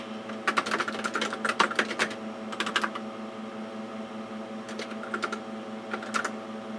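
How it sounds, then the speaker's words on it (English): Keys clatter on a vintage Tandy 6000 computer keyboard while a letter is typed, coming in several quick bursts of clicks over a steady electronic hum from the machine, close and clear with no talking. "And it wants me to type this whole letter."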